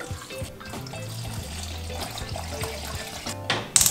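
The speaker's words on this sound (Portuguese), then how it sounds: "Agora eu vou pôr 2 litros de água." Two litres of water poured into a risotto pot in a home kitchen, a steady splashing, gurgling stream running continuously at close range, ending with a brief clatter.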